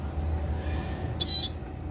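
A single short, bright bird call from a cigun bird being handled, rising sharply then fading over a few tenths of a second, close and clear above a low background hum.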